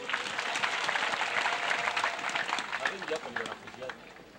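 A church conference crowd applauds a guest with a dense, steady burst of clapping that fades toward the end, while voices talk under it.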